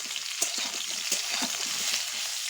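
Potatoes fry in hot oil in a pan, a close, crackling sizzle with a few sharp pops and brief stirring scrapes, and no one speaks.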